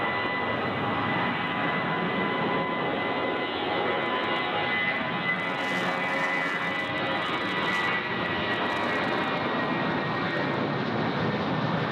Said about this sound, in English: So we just watch our Jetstar get underway here.